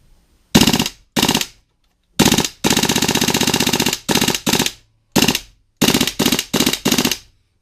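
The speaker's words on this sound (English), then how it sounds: "So here's the gun on full auto." WE M4 airsoft gun firing on full auto: rapid mechanical rattling bursts, several short and one long, close and loud, separated by brief silences.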